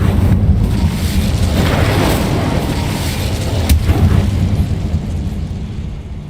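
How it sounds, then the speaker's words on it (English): The Incendio fire spell erupts in Hogwarts Legacy as a loud, continuous roaring blast with heavy low rumble and hiss that stays dense and forceful throughout, a brief crackle cutting through partway. "Incendio!"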